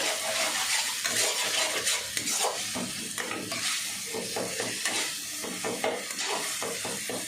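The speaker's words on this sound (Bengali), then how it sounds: "এবার সমস্তটা আমি ভালো করে একটু কষিয়ে নেব।" Sour roselle chutney cooks in a pan and is stirred steadily, a continuous close hiss and sizzle broken by repeated scrapes and clinks of a utensil against the pan, with no talking.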